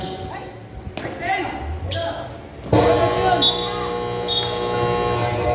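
A loud, sustained electronic basketball game buzzer blares over a noisy indoor crowd, with voices and shouting continuing around it.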